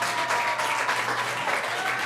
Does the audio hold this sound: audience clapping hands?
yes